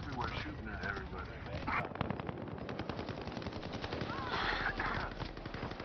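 Rapid bursts of automatic gunfire in the battle royale game Warzone, with shots from several directions on a prison rooftop, rattling on steadily throughout while a voice talks over it.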